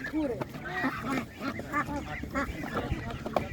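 Geese honk and ducks quack repeatedly in a noisy, busy cluster of birds at an animal market, with people talking faintly in the background.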